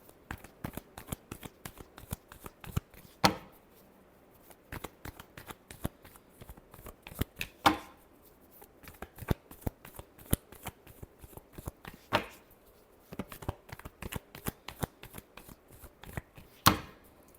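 Tarot cards shuffled by hand during a card reading, with a long run of quick crisp riffling clicks and a few sharper slaps, close and quiet with no talk.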